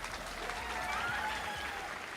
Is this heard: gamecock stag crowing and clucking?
no